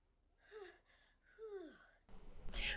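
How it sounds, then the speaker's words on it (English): A woman in The Sims 4 breathes during labour with soft, breathy gasps and sighs, two quiet exhalations with a falling pitch. A brief rustle of noise follows at the end. "she makes little breathing sounds"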